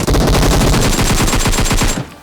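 Rapid automatic gunfire in a shooter video game, a loud close burst of rattling shots in quick rhythm for about two seconds before cutting off abruptly.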